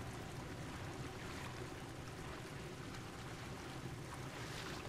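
Underwater-depths water ambience from the Little Nightmares game, a faint, steady low rumble of lapping water and hollow creaking, continuous and distant with no voices.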